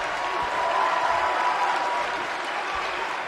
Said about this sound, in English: Christina doing quite well and getting some nice applause from the fans.